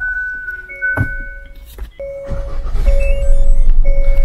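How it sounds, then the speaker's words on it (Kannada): An automatic car in park mode is started: a thump and short crank give way to a steady low engine idle, while several dashboard chimes and tones sound over it. "ಸೊ ಪಾರ್ಕ್ ಮೋಡ್ ಅಲ್ಲಿ ಹಾಕಿ ನಾನು ಗಾಡಿನ ಸ್ಟಾರ್ಟ್ ಮಾಡಿದ್ದೀನಿ ಈಗ."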